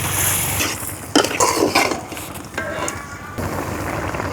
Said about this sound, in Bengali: এখন ভাজা চিংড়ি মাছটা দিয়ে দিম।